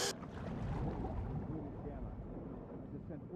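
Steady low rumble of a boat's motor running on the water in The Last of Us Part II, continuous and fairly faint with wind and water noise mixed in.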